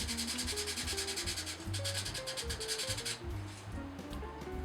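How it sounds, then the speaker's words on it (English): Steady back-and-forth rubbing of 220 grit sandpaper on a 3D-printed prop, continuous scratchy strokes in a quick rhythm, with faint tonal background sounds underneath. "sanding it smooth with more 220 grit sandpaper"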